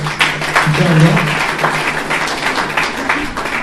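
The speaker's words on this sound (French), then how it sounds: "On peut les applaudir." Audience applause for speakers at a conference, a brief patter of clapping mixed with a voice talking over it throughout.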